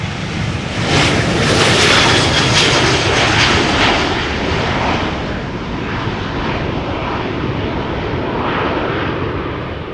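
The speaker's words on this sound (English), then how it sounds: "This is KLM 737-900 to Copenhagen" A KLM Boeing 737-900 jet departing for Copenhagen on flight 1269 from Schiphol's Polderbaan runway roars loudly and steadily throughout, a broad continuous engine rumble with no voices.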